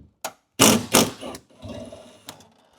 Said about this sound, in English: We're going to go ahead and take out the 2 bolts.